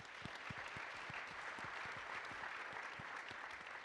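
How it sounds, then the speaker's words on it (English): A room full of people applauds, a dense, even crackle of clapping hands sustained throughout, heard from a short distance with no talking over it. "Round of applause."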